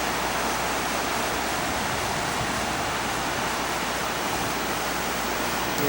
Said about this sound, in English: Indian Creek, impaired because of stormwater.